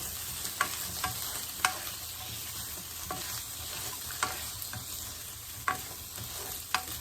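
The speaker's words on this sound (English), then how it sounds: "Chili, tomato, onion, everything is been roasted nicely as we wanted" Kashmiri chili, tomato and onion roasting in a pan for dosa chutney: a steady quiet sizzle with occasional scraping stir strokes at irregular intervals, no talking.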